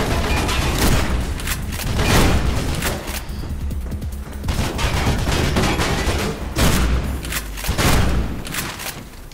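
Repeated shotgun blasts fire in the first-person game Mirror's Edge, loud and close, coming in bursts with short gaps amid other gunfire and booming combat noise.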